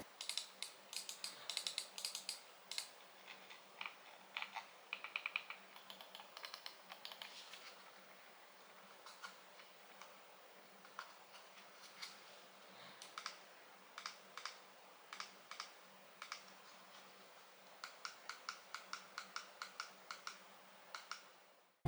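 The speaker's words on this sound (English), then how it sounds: "The clicks feel very responsive, very clicky without being too loud." Clicking from a HyperX Pulsefire Haste 2 wireless gaming mouse fitted with HyperX's own switches: a long run of crisp, close clicks, dense at first and then in spaced bursts, with no speech.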